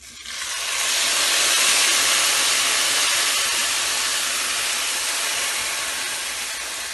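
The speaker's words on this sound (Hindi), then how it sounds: "अब हम इसमें डाल देंगे दूध।" Milk hits a hot pan of deeply roasted sweet vermicelli for shahi siwayyan, sending up a loud, steady, close hiss that swells within the first second and holds for about seven seconds, with no talking.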